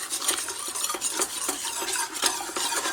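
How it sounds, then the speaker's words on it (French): A whisk stirring sugar and water in a saucepan, making quick, rhythmic scraping and swishing strokes against the metal, close and fairly loud, with no talking. "Dans la casserole, on met toute l'eau, on verse donc par-dessus le sucre et avec le fouet, on va venir ici mélanger"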